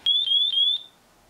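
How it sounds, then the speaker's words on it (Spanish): A radio transmitter's alarm sounds while binding a Frsky R-XSR receiver on a CineBee 75HD drone, giving three quick, high electronic beeps in a row, close and clear, then falling silent. "Empieza a sonar lo que es la alarma."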